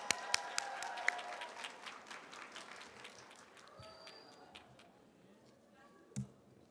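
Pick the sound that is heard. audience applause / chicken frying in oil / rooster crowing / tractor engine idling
audience applause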